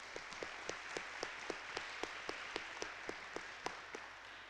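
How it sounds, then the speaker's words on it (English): A school assembly audience gives a round of applause at an elementary honor roll ceremony, heard as sparse, distinct claps in a steady rhythm over a soft, faint background wash. "let's recognize Kason and give him a round of applause"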